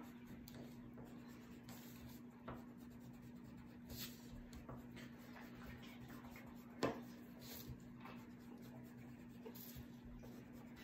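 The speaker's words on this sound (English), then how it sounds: "I'm gonna use this black pencil, this black colored pencil, so you guys can see those lines better." Black colored pencil scratching lines onto paper, faint and close, with soft intermittent strokes over a steady low hum and one sharper tap midway.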